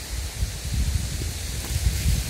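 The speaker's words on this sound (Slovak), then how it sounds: "vonku začalo nepríjemne fúkať a vy by ste ma skoro vôbec nerozumeli" Wind gusts blowing outdoors, a steady low rumble and buffeting against the microphone with a soft rustle over it, constant and fairly close throughout, no one speaking.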